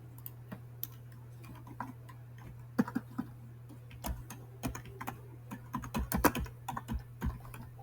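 Someone types on a computer keyboard in a quiet room with a low steady hum behind. Isolated key taps come at first, then a quicker, denser burst of clicking. The taps are close and crisp, and no one speaks.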